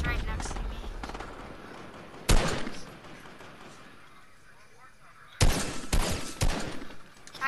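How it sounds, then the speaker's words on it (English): Rockets and gunfire close by in the Fortnite video game, with two heavy explosive bursts a few seconds apart, each trailing off into rumble, over a continuous bed of game noise. "Crap, there's kids shooting rockets right next to me."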